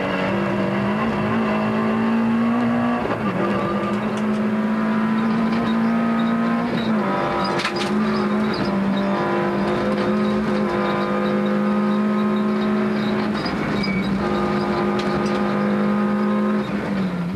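A Citroën Saxo rally car races hard, its engine screaming at high revs with repeated gear changes, dips and surges, loud and close throughout with no talk.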